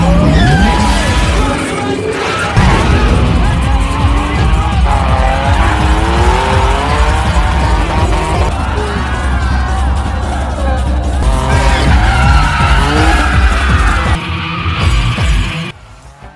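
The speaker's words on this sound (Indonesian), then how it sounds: "begitu balapan dimulai, Sean langsung menubuk pembatas jalan dan tiang di sana" Race car in a film slamming into a road barrier and pole at the start of a race, tires skidding and squealing loudly, with engine roar, shrieking tire sweeps and background crowd babble throughout, dense and close.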